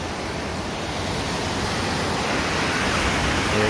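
Ocean surf washing in at Coronado Beach in San Diego, a loud, continuous, close rush of breaking water that swells slightly toward the end, with no talking.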